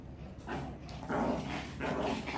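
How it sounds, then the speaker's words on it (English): Dogs fight and bark during an indoor yoga session, with loud repeated barks, growls and whimpers that swell and recur across the moment, close by and with no talk. "we have fighting dogs"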